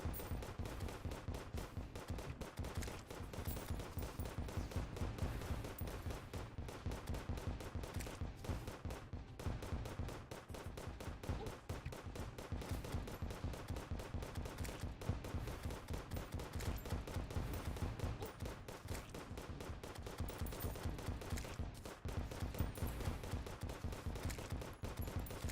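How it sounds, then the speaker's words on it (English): Rapid, steady gunfire from a Phoenix Blaster shooting exploding bullets in the Terraria video game, a dense stream of close popping shots running continuously throughout with no talk over it. "I'm gonna need to restock on exploding bullets soon."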